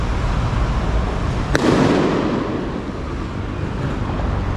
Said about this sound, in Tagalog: Lakas na mapaputok dito. Ang aga nila magpaputok.